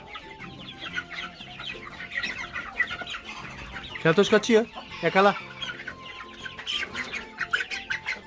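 Chickens cluck repeatedly at close range, with a louder burst of calls in the middle, while a child and an adult talk over them.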